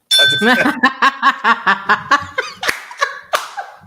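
A small bell on a live talk show is rung rapidly about a dozen times in an even rhythm, bright and close, each strike ringing briefly before the next.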